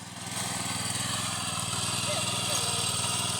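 A tractor engine chugs steadily nearby while ploughing a paddy field, a rhythmic mid-pitched rumble that builds slightly after the first moment and holds.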